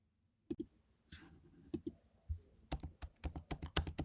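A computer keyboard being typed on, starting with a few scattered keystrokes, then a quick, steady run of sharp clicks close by in an otherwise quiet room.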